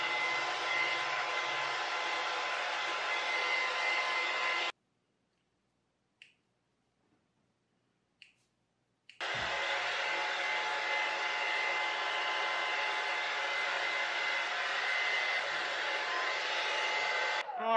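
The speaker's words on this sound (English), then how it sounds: "Go back to blow drying, love. Yeah, let's blow dry more." Hair dryer blowing steadily and loudly on a long-haired guinea pig during grooming, running about five seconds, cutting out for several seconds of near silence with a couple of faint clicks, then starting again and running to the end.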